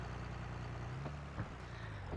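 A tractor engine in Farming Simulator 22 runs in a low, steady drone throughout, with a faint brief clunk near the middle.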